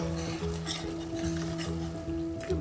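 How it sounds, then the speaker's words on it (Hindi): Onion and masala sautéing in a pan for shrimp masala, a steady close sizzle with repeated scraping stir strokes and light clinks of utensil on metal. "थोड़ा सा पकाना है हमने मसाले को ताकि प्याज जो है इसमें डिज़ोल्व हो जाए"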